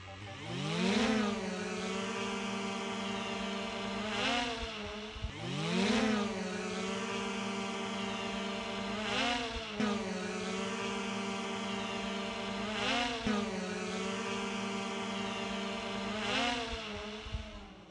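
DJI Mini 3 Pro drone motors running during a lifting test, a loud close whine with layered harmonic tones that rise and fall in repeated surges as the rotors spin up and adjust, steady and without talk.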